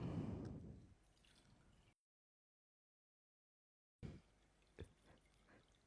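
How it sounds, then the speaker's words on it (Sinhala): Water drips slowly into a bottle, a quiet trickle and splash that fades, then a gap of silence before a few isolated drips and a soft gurgle return. "සෙමින් වතුර එකතු කරගන්නනේ."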